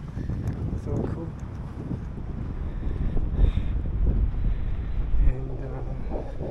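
Breeze at Jomtien Beach buffets the microphone in steady rumbling gusts, loud and close, with a voice talking underneath.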